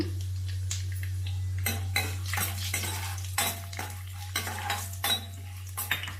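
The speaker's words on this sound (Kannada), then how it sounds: "ಎಣ್ಣೆ ಕಾದಿದೆ ಸಾಸಿವೆ ಹಾಕ್ಕೊತಾ ಇದ್ದೀನಿ ಜೀರಿಗೆ ಕಡಲೆಬೇಳೆ ಇದು ಸ್ವಲ್ಪ ಫ್ರೈ ಆಗಲಿ" Mustard seeds, cumin and chana dal frying in hot oil for tomato bele bath, dominated by a sharp rhythm of metal spoon clanks and scrapes against the pan over a faint sizzle and low steady hum.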